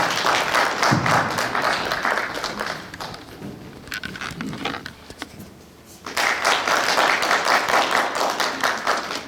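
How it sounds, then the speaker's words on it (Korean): Big applause from an audience welcoming a professor onto the stage at a special lecture event, with dense clapping that fades in the middle, then swells back to full strength. "큰 박수와 함께 백승종 교수님을 모시겠습니다."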